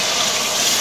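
Milk poured into a hot pan for halwa on a low flame, giving a steady, close hiss and gush of liquid that runs unbroken from start to finish with no talking.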